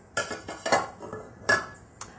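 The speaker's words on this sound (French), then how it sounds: "et on pose la petite casserole dans la grande casserole." A small saucepan set down inside a larger saucepan, with bowls over the pans, while melting couverture chocolate in a bain-marie; several close metallic clanks and scrapes ring out in quick succession, with no talking.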